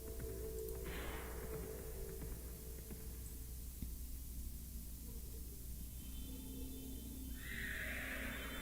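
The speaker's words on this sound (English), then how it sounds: "Cavalo." A horse whinnies amid a steady background hiss and hum, with a brief high neigh near the start and a louder one toward the end.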